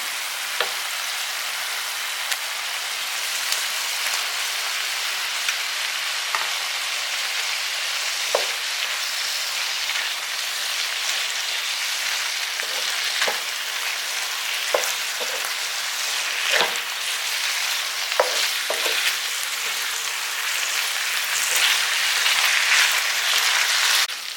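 Capsicum and pasta frying in a pan while being stirred, a steady loud sizzle lasting throughout, with frequent scraping and clinking from the spoon against the pan.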